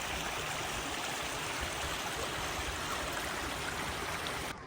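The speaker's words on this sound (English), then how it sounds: "Hot water flowing down." Hot water flowing down at a volcanic site near Chitose, Japan, a steady rushing stream sound, continuous and even, heard alone until it cuts off at the end.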